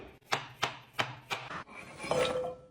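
A knife chops carrots on a board, four or five sharp, evenly spaced strokes close by, followed by a softer scraping sound and no talk.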